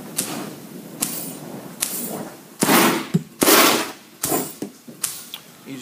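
Compressed air from a Pulsair system bursts through wine in a barrel during harvest, making about nine sharp, irregular gushing pops with brief bubbling tails and quiet gaps between them.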